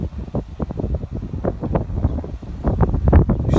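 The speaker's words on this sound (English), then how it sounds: "Very windy out here today too, so I'm trying to speak up a little bit for you." Strong outdoor wind buffets the microphone beside a pre-owned 2017 Jeep Wrangler Unlimited Rubicon 4x4, a steady loud rumble with gusty low thumps throughout.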